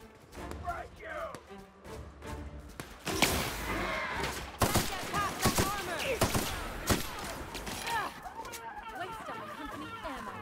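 Bursts of gunfire from The Outer Worlds video game crack out in irregular volleys, loud and close, mixed with thuds and game voices talking over the shooting.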